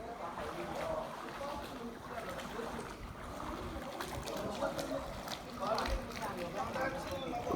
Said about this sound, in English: The boats are running.